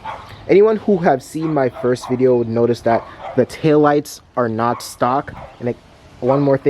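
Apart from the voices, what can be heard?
neighbor's dogs barking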